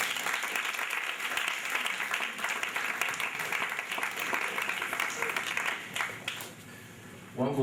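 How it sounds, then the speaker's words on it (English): An audience at a Get Nigeria Reading event keeps up a steady round of clapping that thins toward the end, with a voice breaking in just at the close. "You should clap more than this."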